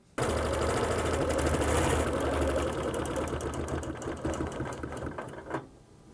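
A sewing machine runs steadily, stitching a straight line of quilting close by, its rapid even chatter holding for about five seconds before it stops.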